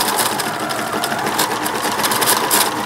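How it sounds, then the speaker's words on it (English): A sewing machine stitches the back seam of American Girl doll panties, a close, steady, rapid whirring hum with a fine rhythmic needle patter that runs continuously and loudly, with no talking. "Sew up the back seam."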